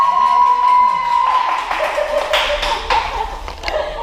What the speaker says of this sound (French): Alors on l'applaudit très fort.